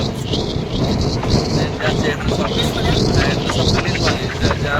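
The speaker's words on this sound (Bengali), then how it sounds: "আমরা ট্রেনে আছি" Inside a moving train passing tea gardens in Assam, a loud, steady rumbling roar fills the carriage, with people talking over the noise.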